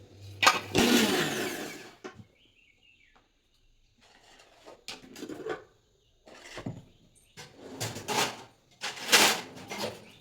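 An electric mixer grinder churns coconut in short, loud whirring bursts separated by quiet pauses, its motor revving up and cutting off several times close by.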